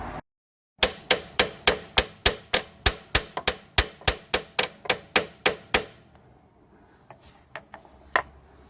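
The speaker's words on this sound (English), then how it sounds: "Also a good idea to just give it a bit of a tap with the hammer." A hammer tapping on a transfer case drain plug: about fifteen sharp, evenly spaced metallic raps in quick rhythm, close and loud, followed by quieter scattered clinks of tools.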